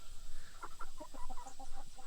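Chickens, including roosters and hens, cluck in a rapid series of short, repeated calls at moderate distance over a steady background hum.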